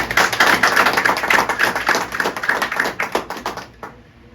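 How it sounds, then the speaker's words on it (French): A room full of people claps steadily for a few seconds, dense and close, then the applause thins out and stops. "vous demander d'applaudir chaudement"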